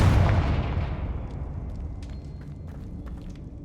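A booming Confringo blasting spell goes off in the Hogwarts Legacy video game, with a loud explosive burst that rolls off into a fading rumble and scattered debris-like crackles, with no voices.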